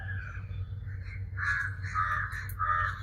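Several crows caw repeatedly outdoors during a Kaanum Pongal offering, with harsh calls building and repeating over a low steady background hum.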